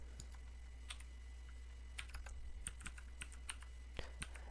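A command is typed on a computer keyboard, sparse, crisp key taps in small clusters over a low steady hum, close and moderately quiet, with no speech.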